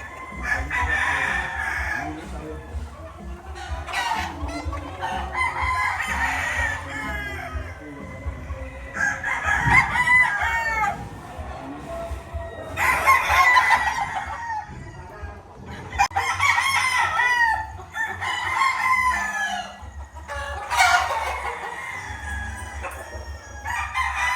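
A rooster crows repeatedly, loud and close, several long cock-a-doodle-doos spaced a few seconds apart, with other chickens clucking in the background.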